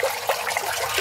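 Borhani, a spiced yogurt drink, is strained through a sieve while a hand stirs it, and it drips and pours down in a steady, close, splashy liquid trickle.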